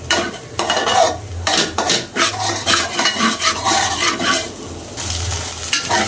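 Scrambled egg being stirred in a pan on the stove over low heat, Chinese-style, with repeated scraping and clinking of a utensil against the pan and a soft sizzle underneath, no talking.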